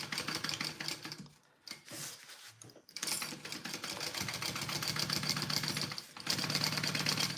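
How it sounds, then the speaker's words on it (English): A home sewing machine runs in steady mechanical bursts with a rapid, even stitching rhythm, stopping briefly twice before resuming, heard close up with no talking. "my bobbin sounds much better now, huh?"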